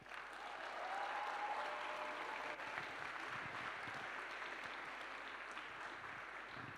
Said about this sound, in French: Est-ce qu'on peut applaudir Histoire Crépue vraiment pour cette salle?